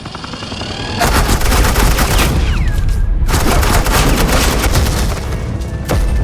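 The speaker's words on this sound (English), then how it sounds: "Suppressing fire." Heavy suppressing gunfire in the Batman The Enemy Within video game, rapid automatic bursts that start abruptly after a quieter second and continue loud and dense, with a brief gap midway and a whizzing streak through the barrage.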